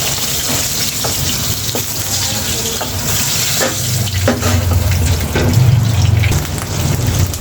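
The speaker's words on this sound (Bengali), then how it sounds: "আদাটা প্রচুর পরিমাণে ফুটতেছে তাই জন্য পানি দিয়ে দিলাম" Water hits ginger, garlic and onion frying in a pan, raising a rushing, bubbling hiss over the sizzle, with scattered clinks and a fuller boil toward the end.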